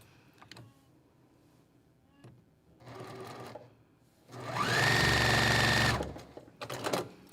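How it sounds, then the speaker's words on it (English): A sewing machine stitches straight along a marked line on quilt-block fabric, running in a loud, steady burst of about two seconds after a few short starts and soft handling clicks, with no voices. "I'm going to sew directly on that line"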